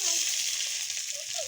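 Black cumin seeds and chilli hit hot frying oil left from frying fish for a Bengali fish curry, giving a loud, steady, bright sizzle that fizzes on without pause and without any talk.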